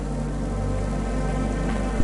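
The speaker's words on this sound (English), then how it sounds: "Don't let all the rain get you." Steady rain pours through the rainy cityscape of the video game Cloudpunk, a continuous hiss layered over a low humming ambient drone with no talk.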